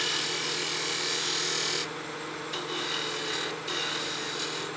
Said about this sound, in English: then we'll use a slicing cut with our skew